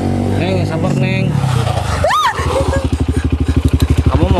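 A motorcycle idles and then revs, its engine throbbing in a fast pulsing rhythm close by, heard under and after loud overlapping talk.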